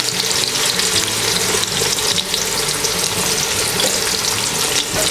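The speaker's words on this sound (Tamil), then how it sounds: "நல்லா இப்படி உதுத்து விட்டு ஆயிலில் போடுங்க" Sliced large onions frying in hot oil for a wedding-style biryani, a dense, steady sizzle with crackling and light stirring that holds loud and close from start to finish, with no voices.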